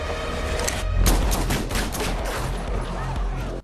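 Gunfire from the action film John Wick Chapter 2, a dense fusillade of rapid, overlapping shots with booming low end, loud and continuous over a short stretch, with faint voices underneath.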